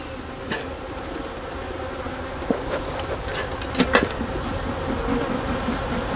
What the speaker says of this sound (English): Calm down, bees.